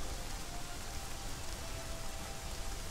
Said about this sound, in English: Surprised we're not catching a cold in all this rain.